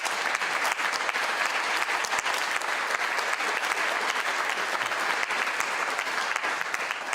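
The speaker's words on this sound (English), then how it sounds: "Let's give them one more round of applause." Sustained audience applause at a community progress report gathering, a dense, even wash of many hands clapping steadily for several seconds without pause.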